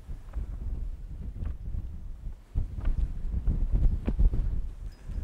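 Steady wind buffeting and rumbling against the microphone, gusting louder in the second half, with no one speaking.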